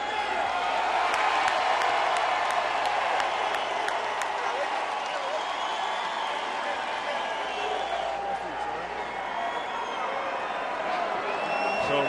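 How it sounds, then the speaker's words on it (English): A large boxing-arena crowd gives a muted, uncertain cheer, with scattered clapping and murmuring spread evenly through a continuous wash of distant noise and no sharp peaks of excitement. "Sort of a half-hearted cheer from the crowd."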